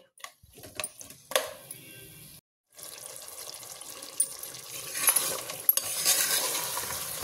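Chicken fries in oil in a pan for a masala gravy, giving a soft, steady sizzle with intermittent stirring scrapes and a brief silent gap partway through.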